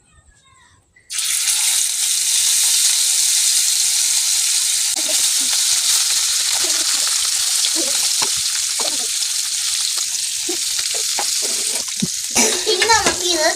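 Ayala fish hits hot coconut oil in a pan, bursting into a loud, steady sizzle after a brief quiet start, with light clinks of stirring near the end.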